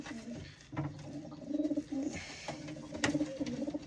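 Racing pigeon cooing repeatedly while held in the hand, soft rhythmic coos close by, with light handling rustle and no talk.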